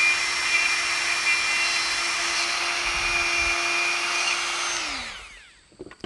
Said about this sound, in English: I'm drilling my holes about 1/2 inch from each end